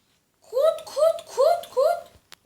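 A Minecraft sheep bleats four times in quick succession, close and clear, each a wavering nasal cry followed by a couple of faint clicks.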